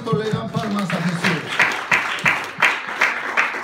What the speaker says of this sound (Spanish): ¿Cuánto le dan palmas a Jesús?